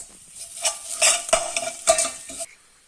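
A utensil stirs chilies into spicy baked beans in a pan, with a few scraping, clattering strokes over a light sizzle before it stops.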